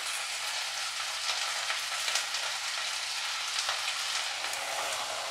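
Chopped vegetables and soaked sweet corn fry in a pan with a steady, close hiss and crackle, punctuated by a few faint taps of stirring throughout.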